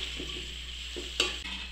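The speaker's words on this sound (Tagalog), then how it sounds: "Pwede natin pagsabayin, bawang at sibuyas. Igisa muna natin to." Garlic and onion sauté in a pan, a soft steady sizzle with a few light stirring scrapes and one brief sharper clink, heard close and quiet with no talking.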